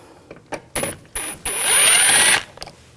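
A ratchet fitted with a T20 socket clicks in short bursts and then a longer whirring spin as it backs screws out of a 2000–2006 BMW X5 front door panel, close up and loud.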